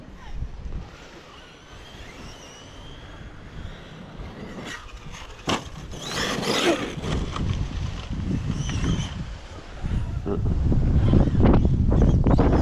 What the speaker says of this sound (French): Oula, il y a du vent.